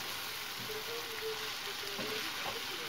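Chopped tomatoes sizzle and hiss steadily in a hot pan, a constant close frying sound with no talking.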